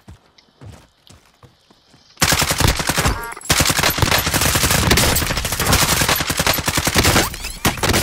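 Rapid automatic gunfire erupts in a video game firefight: a few scattered shots and thuds give way to a loud, sustained barrage of fast bursts, with a brief gap midway.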